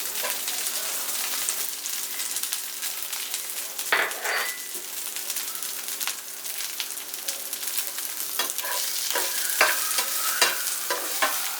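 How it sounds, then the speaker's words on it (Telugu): Sliced onions fry in a pan alongside bottle gourd and moong dal, giving a continuous close sizzle with occasional stirring scrapes throughout. "ఇప్పుడు కొద్దిగా వేగిన తర్వాత ఉల్లిపాయలు వేసుకోవాలి"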